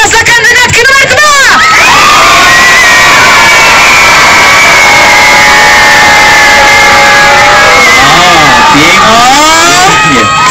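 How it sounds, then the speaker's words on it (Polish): A large outdoor crowd at a wet T-shirt contest in Władysławowo cheers, whistles and shouts loudly and continuously for a contestant, with shrill high voices and whoops rising near the start and end. "Zróbcie hałas dla kandydatki numer 2!"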